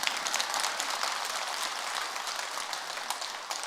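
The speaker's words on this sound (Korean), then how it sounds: "박수 쳐야 되는데." Dense, steady clapping from an audience at a Buddhist dharma service in Jogyesa temple, a broad crackling wash of many hands with no voices, sustained evenly for a few seconds.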